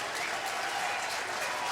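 Gamecocks baseball crowd at a South Carolina stadium applauding and cheering after a strong throw, a short dense burst of clapping with light crowd noise.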